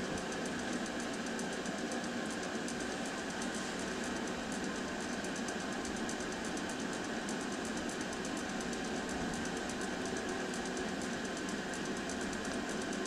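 A laboratory pump runs with a steady, even mechanical drone while mixing two denaturing solutions to pour a DGGE gel gradient, continuous and unchanging with no talk.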